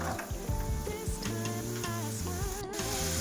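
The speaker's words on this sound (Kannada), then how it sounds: "ಸೊ ಈ ರೀತಿ ಕೆಂಪಗಾಗೋವರೆಗೂ ಹುರಿದು ಸೈಡ್ಗೆ ಎತ್ತಿಟ್ಕೊಳ್ಬೇಕಾಗುತ್ತೆ" Peanuts dry-roasting in a pan until reddish, for village-style peanut chitranna, make a steady close crackle and rattle of stirring. Tonal background music plays loudly over it.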